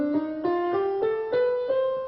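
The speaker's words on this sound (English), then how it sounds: "so that the minor scale sounds like this." A minor scale played on a single pitched instrument, seven or eight clear notes stepping upward in a steady, even rhythm, close and moderately quiet with no talking.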